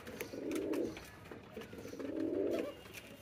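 Cappuccino pigeons, newly acquired and nesting with eggs, give two soft, low cooing phrases close by, each rolling for about a second with a short pause between, with no talking.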